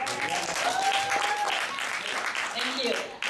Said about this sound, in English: Can we have again a round of applause to him?